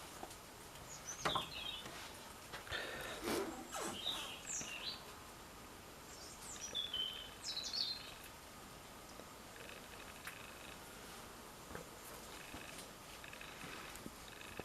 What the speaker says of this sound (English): listen to the birds. Isn't that lovely?